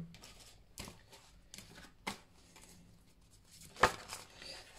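Oracle cards being shuffled by hand, giving irregular soft riffling and flicking bursts with a few sharper snaps, fairly close and quiet with no talking.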